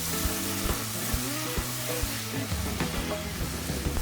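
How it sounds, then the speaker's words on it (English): A beef stock and brandy pepper sauce bubbles and sizzles in a cast iron pan while it is stirred to thicken, a steady close simmer with light scraping and a low background hum. "we now add beef stock to the pan and stir it until the sauce thickens"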